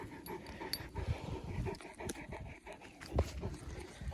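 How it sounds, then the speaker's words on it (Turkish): A stray dog pants rapidly and steadily up close, quick rhythmic breaths, with faint rustling and movement around it. "Komşunun koyunlarına gelmiş sahipsiz bir köpek."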